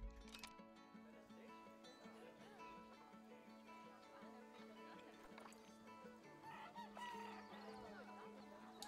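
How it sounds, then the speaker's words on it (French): Chicken in the video game Planet Zoo clucking softly on a farm enclosure, faint and repeated over a busy game soundscape with music-like tones and ambient noise, no speech. "Ouais, petite poule!"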